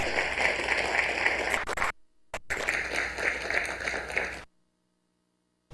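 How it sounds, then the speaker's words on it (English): An audience applauds speaker Gloria Wells after her talk on Buffalo and Chippewa spirituality. The clapping is steady and fills the room, breaks off briefly, resumes, and then stops abruptly into silence. "let's give a wonderful applause."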